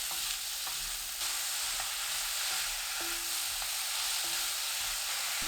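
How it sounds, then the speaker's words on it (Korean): Enoki mushrooms with a couple of pinches of fine salt stir-fried over medium heat alongside cucumber, a steady close sizzle broken by the scrape and tap of a utensil moving through the pan, with no voices. "팽이버섯, 고운 소금 2꼬집 넣고 중불로 1분 30초 볶아주세요."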